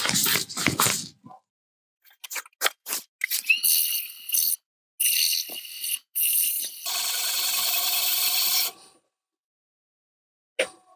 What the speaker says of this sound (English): I'm just going to sand the inside of that